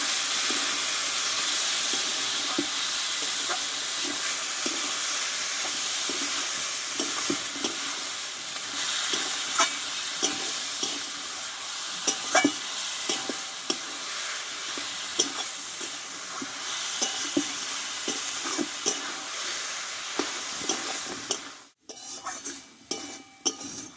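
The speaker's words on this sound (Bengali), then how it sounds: "সেদ্ধ করে রাখা আমি মোচাটা ঢেলে দেব মশলার সঙ্গে ভালোভাবে আমি কষিয়ে নেবো" Boiled banana flower sizzles in a pan as it is stir-fried with spices for mochar ghonto, a steady close frying hiss broken by frequent scraping stirs, with a brief drop near the end.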